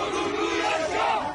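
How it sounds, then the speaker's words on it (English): Loud crowd of street demonstrators clashing with police in Turkey, a dense continuous roar of shouting and chanting voices with no pauses, close and sustained. "Street demonstrators clashing violently with police after the main political rival of the nation's president, Tayyip Erdogan, was detained."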